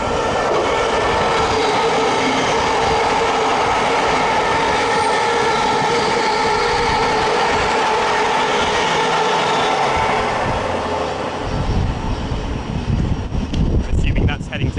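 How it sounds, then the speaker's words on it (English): Thameslink unit 700-108 runs through a station without stopping, a loud steady roar of wheels and rushing air lasting the whole stretch. The rumble shifts and grows rougher toward the end as the train clears the platform. "Another Thameslink train not stopping here, about to come through."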